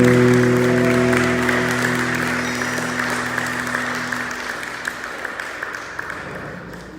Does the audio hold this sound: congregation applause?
yes